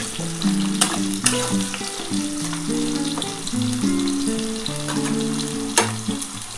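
Potatoes and lentil bori frying in oil, a steady close sizzle with occasional sharp crackles, while a melodic music track plays over it and no one speaks.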